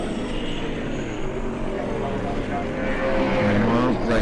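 A Mitsubishi sports sedan race car in a Classic Sports Sedans heat passes by, its engine droning loud and steady and rising slightly as it draws nearer, with a commentator talking over it throughout.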